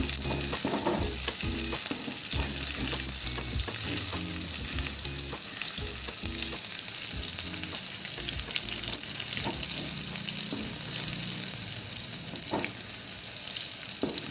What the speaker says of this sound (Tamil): வெங்காயம் நல்லா வதங்கிடுச்சு இப்போ நம்ம சட்னி இதில் சேர்த்துக்கலாம்